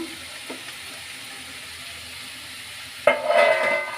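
Onions dropped into hot oil in a pan with mushrooms, a sudden loud sizzle bursting in near the end after a quiet stretch.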